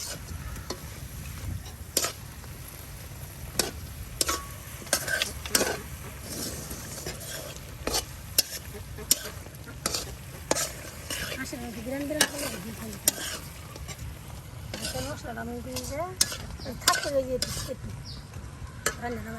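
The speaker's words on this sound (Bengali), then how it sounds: "সুন্দর করে ভাবি এই যে হাঁসের মাংসের মশলাটা কষাইতেছে।" Duck meat curry with masala sizzles in a pan while being stirred, with steady frying hiss and repeated sharp spoon scrapes and clicks throughout; a faint voice is heard briefly.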